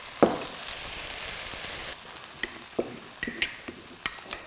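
Starch slurry of cornstarch and water stirred into a sizzling pork-and-zha cai stir-fry in a wok, a steady hiss that drops off, then scattered close scraping clacks of a utensil against the pan.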